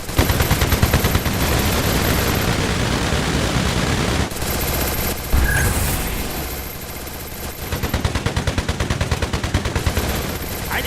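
Continuous rapid bursts of automatic gunfire from a video game, loud and dense, with a brief pause midway before the firing resumes.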